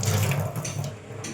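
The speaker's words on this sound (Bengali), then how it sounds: "হাতটা ধুই" Hands being washed under a running kitchen tap after cooking, a close, steady splash of water that tapers slightly toward the end, with no talking.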